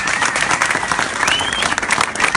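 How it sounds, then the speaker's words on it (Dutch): A crowd at the official opening of a pop-up department store in Leiden applauds a prize winner, lively dense clapping with scattered cheers and a brief whistle rising over it. "geef een hartelijk applaus voor deze winnaar"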